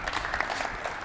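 A short burst of audience applause at a school trophy ceremony, a dense patter of many hands clapping at moderate distance, fairly soft and steady for about a second.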